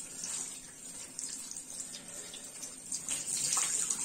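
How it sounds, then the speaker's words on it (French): Warm water runs steadily from a tap as a face is rinsed, a continuous hissy stream with small splashy surges and no talking. "Je vais rincer mon visage à l'eau chaude du coup"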